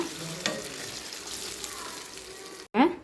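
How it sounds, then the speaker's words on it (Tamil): Bottle gourd sizzles in a frying pan as it is mixed, a steady hiss with a knock early on, then a brief cutoff followed by a louder burst of sizzling and scraping. "சுரக்காயை சேர்த்துக்கலாங்க சேர்த்துட்டு மிக்ஸ் பண்ணிக்கலாங்க"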